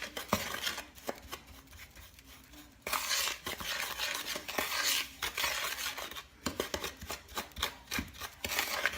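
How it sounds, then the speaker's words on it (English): A spoon scrapes and clinks around a bowl as wet ingredients are stirred into dry batter, in irregular close strokes with brief pauses, moderately quiet. "Add a little bit more and stir it in automatically."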